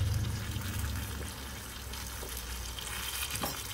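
Breaded bluegill fillets fry in hot oil with a loud, continuous sizzle and crackle, close by and steady throughout.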